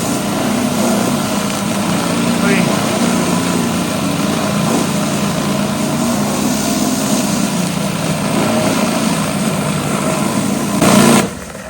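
A pressure washer clears dirt from outdoor paving joints, its small engine droning loud and close at a steady pitch with a brief surge near the end.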